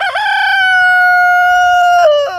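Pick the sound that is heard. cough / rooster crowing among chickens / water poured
rooster crowing among chickens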